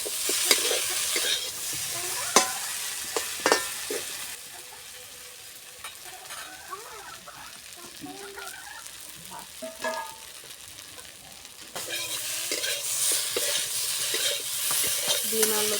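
Fish roe and taro stolons sauté in a pan with a constant sizzle, broken by scraping stirs. The frying swells louder near the start and end and stays softer in the middle.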